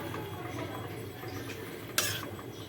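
Fried pointed gourd and potato go into a pan of poppy-seed paste with soft clinks of a utensil and one sharper clatter, quiet and close.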